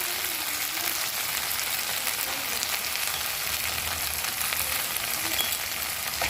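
A pan of stir-fry for restaurant-style veg egg noodles hisses with a dense, even sizzle like steady rain, with faint stirring underneath, close and unbroken throughout without speech.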